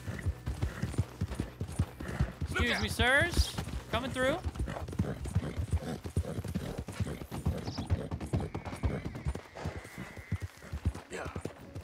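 Horse hooves clip-clop steadily in Red Dead Redemption 2 as a horse trots along, running through the whole stretch beneath near, frequent talk and brief in-game voices.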